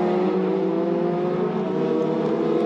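Formula Renault Eurocup race cars roar past at Spa-Francorchamps, a loud, sustained high-pitched engine scream with steady harmonic tones that holds throughout, close and dominant with no other sounds.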